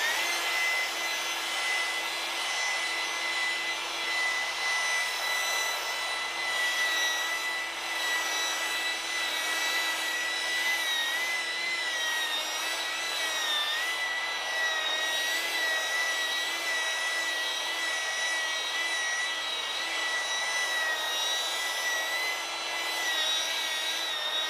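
A polisher buffs a granite countertop with a steady, continuous whirring grind and high tonal whine, holding an even level throughout with no talking.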